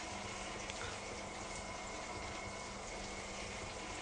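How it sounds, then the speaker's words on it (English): Frog legs shallow-frying in hot oil in a skillet give a steady, dense sizzle and hiss that stays even and fairly quiet throughout, with no voices over it. "I'm listening for the sizzle."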